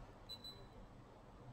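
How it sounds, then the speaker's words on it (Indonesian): Two short, high-pitched electronic beeps come in quick succession from an LG Puricare Gen 2 mask, faint and clean against near silence. "Beep 2 kali berarti suara saya keluar lagi seperti biasa."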